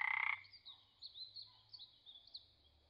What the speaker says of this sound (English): Common spadefoot.